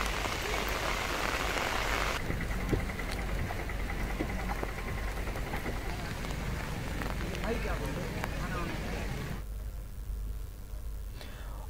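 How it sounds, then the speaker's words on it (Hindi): Heavy continuous monsoon rain pours in Kondagaon, Chhattisgarh, a steady, dense hiss of water on surfaces that stays loud throughout and briefly thins near the end. "लगातार बारिश हो रही है।"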